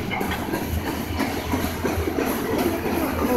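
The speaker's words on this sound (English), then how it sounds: "It's a pretty long train, very long train actually." CSX freight train led by GE locomotives passing through Clinton, South Carolina, its cars rolling by in a continuous loud rumble with faint rhythmic wheel clatter; no talking.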